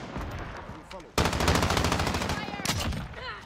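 Rapid automatic gunfire from Call of Duty Modern Warfare cuts in sharply and rattles loudly for a couple of seconds, then a second burst follows. A player speaks briefly in the quieter lead-in.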